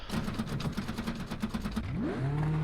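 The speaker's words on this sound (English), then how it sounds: "Get the old clunky engine started." An old, clunky kart engine in iRacing cranks with a rapid rhythmic clatter, then catches and rises in pitch before settling into a steady, loud idle hum.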